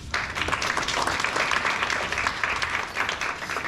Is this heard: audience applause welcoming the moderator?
yes